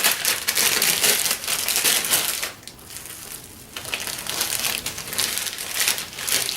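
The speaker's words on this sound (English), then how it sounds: "And then I put it into a Ziploc baggie." Plastic Ziploc bag crinkles and crackles up close as a folded castor oil pack is packed inside, with steady handling noise, a brief quieter lull midway, then more crinkling.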